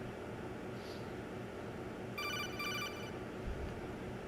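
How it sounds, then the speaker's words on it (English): An in-game phone call rings in Metal Gear Solid 2: Sons of Liberty, a faint, fast electronic trill lasting under a second over a quiet, hissy background with no talk. "I get a little phone call."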